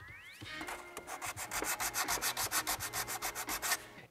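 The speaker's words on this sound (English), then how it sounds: "So mask everything I don't want to sand and just kind of gently sand this away." Sandpaper rubbing painted plastic trim on a Nissan Xterra, a steady run of rhythmic back-and-forth strokes, close and fairly loud, after a brief rising whine at the start.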